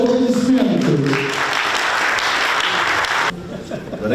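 An audience at an anniversary celebration for a Lezgin newspaper in Makhachkala applauds as editors are invited to the microphone, steady clapping following a voice at the start, then cutting off abruptly into quieter room sound.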